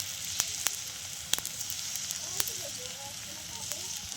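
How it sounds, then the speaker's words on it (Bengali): Patishapta batter made with water chestnut sizzles steadily in a little too much hot oil in a kadai, a soft continuous frying hiss with a few faint clicks and pops, with no talk over it. "এখানে আমি দু চামচ ব্যাটারটা দিয়ে দিলাম একটু তেলটা বেশি হয়ে গেছে"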